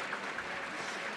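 Audience applause at an Adana earthquake action plan meeting, welcoming the mayors of Adana and Istanbul: a brief, steady wash of dense clapping filling the whole moment.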